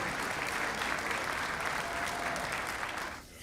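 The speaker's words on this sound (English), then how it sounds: "Let's give them a big round of applause because that's a lot of work." A banquet audience breaks into loud, full applause that holds steady for about three seconds and then drops away quickly at the end.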